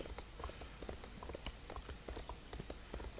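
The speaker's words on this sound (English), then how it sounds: "I'm going as quick as I can on my little horse" A horse in The Elder Scrolls Online hurries along at speed, its hooves clip-clopping in a quick, steady rhythm, close and fairly quiet with no other sounds.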